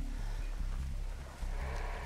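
Engine running in the video game Dead by Daylight, a steady low mechanical rumble with repeating chugging pulses, fairly quiet and continuous throughout.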